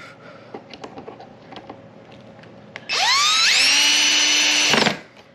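A power drill spins up and drives a self-tapping wood screw into cheap wood at low torque, a steady, loud whine of about two seconds rising in pitch before cutting off, after a few light clicks and taps.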